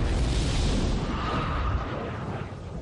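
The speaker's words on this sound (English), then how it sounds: "The exploding chemicals have nowhere to go but out." Chemicals ignited by a catalyst inside a reaction chamber blast outward in a loud, close, continuous roaring rush that holds steady and then eases slightly.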